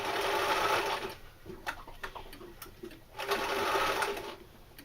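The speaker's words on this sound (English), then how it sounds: "As you put it on your sewing machine" A sewing machine stitches down the edge of a knife carrier in fast mechanical runs, close and loud, stopping briefly in the middle before starting up again, with no talk over it.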